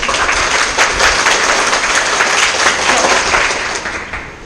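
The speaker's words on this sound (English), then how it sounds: "Clap all of you." Students in a Grade 10 mathematics classroom clap together in a loud, dense, steady burst that holds for about four seconds before easing off at the end.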